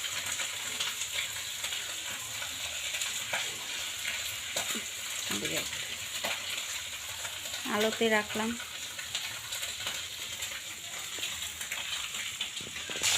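Fish sizzles and fries in a pan in a home kitchen, a steady hiss and crackle running throughout, with a voice speaking briefly over it.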